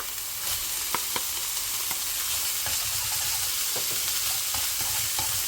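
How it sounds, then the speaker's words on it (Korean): Soaked glass noodles stir-fried with water in a pan over medium heat for toddler japchae, a steady close sizzle broken by repeated scraping clicks of the utensil against the pan. "당면을 넣고 볶을 때는 물을 좀 많이 넣어주셔야 돼요"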